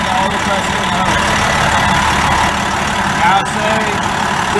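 A vehicle engine idles with the air conditioning on max during an AC service with hoses attached, giving a loud, steady rumbling drone with a constant fan-like hiss throughout.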